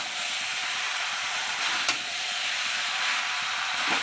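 Chicken and jackfruit curry sautés in a pan in Bengali style, giving a steady, close sizzle and hiss with a few faint clinks of stirring and no talk.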